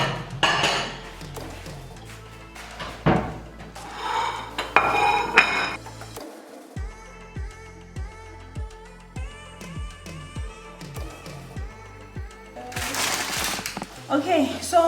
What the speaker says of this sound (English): Let me just get a dish.